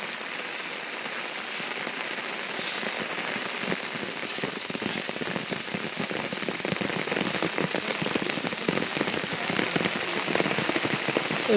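Heavy rain pours at Torana Fort, a dense, close hiss of drops on surfaces that stays steady and grows slightly louder toward the end, with no talking.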